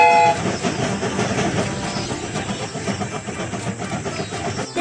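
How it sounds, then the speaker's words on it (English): Train moving in the Baby Bus Baby Panda's Little Train video game, a continuous rumbling, rattling rail sound with rhythmic clatter, steady and fairly loud throughout, with no talking. "The train is about to start."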